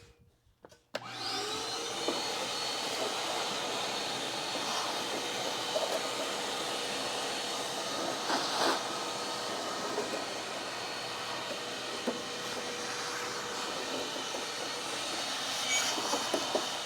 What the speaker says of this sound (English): It is once again time to shop vac.